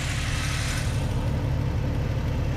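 A rebuilt 4.0L engine in a 2000 Jeep idles steadily, a constant low rumble with a faint hiss above, even and unbroken throughout with no revving.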